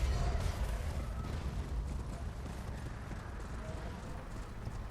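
Horse hooves galloping in the video game Elden Ring, a fast continuous drumming rhythm that stays steady and fairly loud throughout, under a dense game soundscape.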